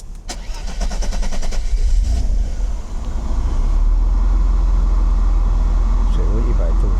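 A Mercedes-Benz R129 300SL, radiator clogged and running hot, cranks and restarts, then settles into a steady, loud idle that fills the rest of the stretch.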